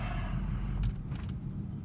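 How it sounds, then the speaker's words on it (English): A truck engine dies, a close, low rumble that briefly swells and then settles, with no one talking. "The truck just died."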